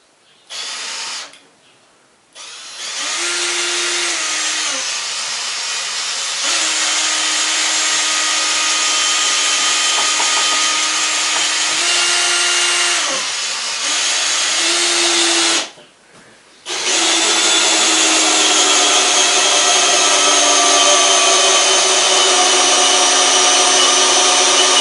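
Power tool driving screws to join wooden beams for a barn transition and stair preparation, a steady whine running in long sustained bursts with brief pauses between them, close and loud, no talking.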